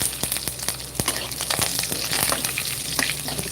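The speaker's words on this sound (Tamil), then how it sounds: "காஞ்ச மிளகாய் கொஞ்ச நேரம் வதங்கட்டும்" Dried red chilies and curry leaves fry in hot oil in a home kitchen, a steady close sizzle broken by sharp crackles and pops and a few scraping stirs.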